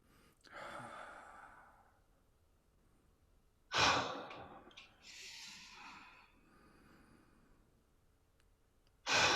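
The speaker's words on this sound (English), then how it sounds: "The 20-something needs to go long, slow Ujjayi in and relax, blow it out the gills on the way out." Slow Ujjayi breathing in a wellness breathwork session: long, audible breaths in and forceful exhales blown out, three distinct breath cycles separated by quiet pauses, close and clear with no talking.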